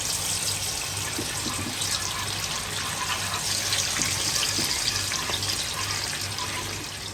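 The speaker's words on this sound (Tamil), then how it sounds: "இப்போ தண்ணி இருக்கு போடணும்" Water runs from a kitchen tap during cooking, a continuous, close hiss and splash that stays steady throughout.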